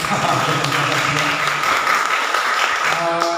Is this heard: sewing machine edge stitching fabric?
no